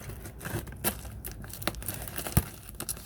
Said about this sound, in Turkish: Şöyle hemen kargomuzu elimizden geldiğince hızlıca açıyoruz